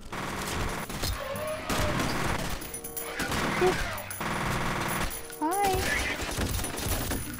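Shotgun blasts in the video game F.E.A.R., several loud, heavy reports amid dense combat noise and game music, with someone briefly speaking between shots.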